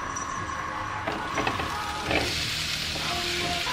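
A mixture hits a hot pan already holding olive oil and carrots, setting off a steady sizzle with clinks and scraping stirs, close and continuous.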